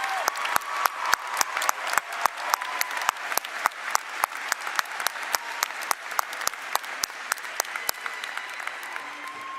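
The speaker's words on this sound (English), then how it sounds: "Please give them a big round of applause." An audience applauds at a college commencement ceremony in a large hall, sustained clapping with sharp individual claps standing out, steady and unbroken throughout.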